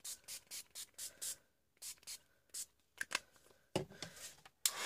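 Short bursts of spray paint hit a mixed media shabby chic craft tag, several quick hissing puffs in an uneven rhythm, close and soft, followed by a couple of longer sprays.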